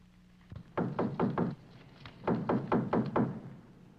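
Knocking on a front door in two quick bursts of four raps each, loud and close, with a short pause between them and no talk over it.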